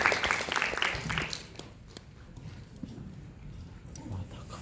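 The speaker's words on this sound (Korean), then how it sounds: "다시 한번 박수 부탁드립니다" Audience applause at a 2019 high school economics club research presentation contest, a burst of clapping that fades after about a second and a half, leaving a quiet hall with faint scattered claps.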